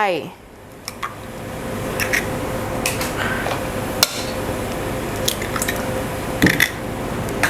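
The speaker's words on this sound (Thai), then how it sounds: "ตอกไข่ใส่ลงไป" A few sharp taps and cracks against a bowl, followed by wet drips and squishes as eggs slide in for brownie toffee cake batter, with steady background noise throughout.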